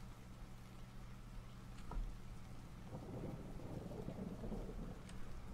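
Rain falls steadily in the Russian Fishing 4 video game on the Sura River, a soft constant hiss with a low rumble of thunder swelling in the middle.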